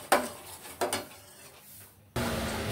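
Dal being stirred into spices in a pot with a utensil, giving a few scraping clinks and a soft bubbling spread over a couple of seconds, with no talk.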